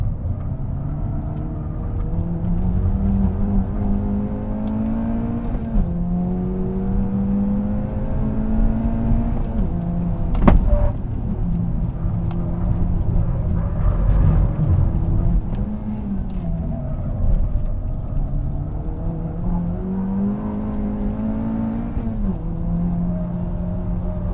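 A 2024 Acura Integra Type S lapping a race track, its engine note rising through the gears with brief dips at each shift, loud and continuous from inside or close by.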